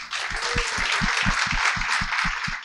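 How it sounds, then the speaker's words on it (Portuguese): An audience applauding at a talk event, a continuous wash of many hands clapping, close and fairly loud, with a steadier rhythmic clap pulsing underneath throughout. "eu já peço uma salva de palmas"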